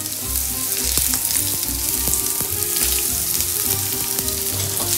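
Peppers and pine nuts fry in a hot pan as a steady, close sizzle with occasional crackles and light stirring clinks, alone and without talk.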